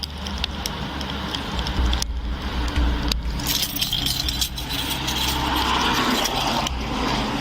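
A set of personal keys jangles and clinks repeatedly near the microphone during a police arrest at a workplace, with sharp metallic taps over a low, steady rumble of a car and background noise.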